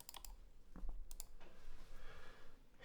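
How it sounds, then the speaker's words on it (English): Computer mouse buttons click in quick, crisp pairs and small clusters, heard from beside a custom keyboard built with a GMK Taro keycap set, close and moderately loud against a light background rumble. "This is how loud my mouse clicks are right at the keyboard."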